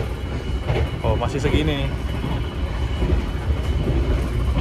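The KA Purwojaya executive-class train on the Cilacap–Jakarta line runs along the rails at speed, a steady close rumble and rattle continuing under a person's brief talk.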